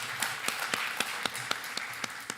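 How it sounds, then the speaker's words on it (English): Audience at a live congressional candidate forum applauding, a soft wash of clapping with a few sharper, evenly spaced claps standing out, fairly quiet and distant. "Let's give everybody a round of applause for that."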